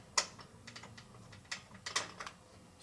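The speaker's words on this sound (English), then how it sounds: "removing the screws from the plastic here" Screws being taken out of a plastic piece on a pinball machine, a quiet series of sharp clicks and ratcheting taps spaced irregularly over a faint background.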